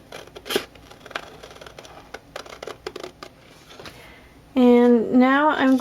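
Scissors cutting out a paper card template, a series of short crisp snips close up, followed by a loud voice speaking over the last second.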